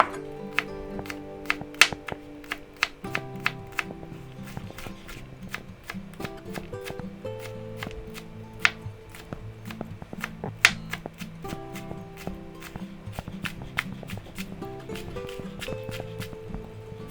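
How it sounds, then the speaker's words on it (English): A knife chopping green onions on a cutting board, quick, steady taps in a regular rhythm continuing throughout, close and fairly quiet, with faint background music. "Now we'll cut the rest of this up."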